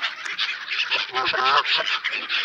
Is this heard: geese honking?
yes